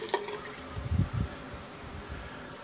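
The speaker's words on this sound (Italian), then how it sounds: "Metto un po' di acqua nel pennello." Water poured onto a shaving brush while preparing American shaving soap for a straight-razor shave, a brief soft splash and trickle close by over a low steady background hiss.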